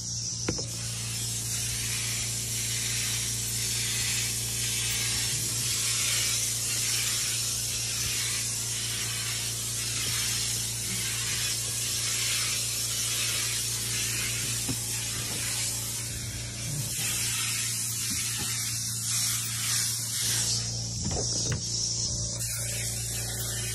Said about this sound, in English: Is putting out about a 6 to 7 foot plume of mist of the sanitizer.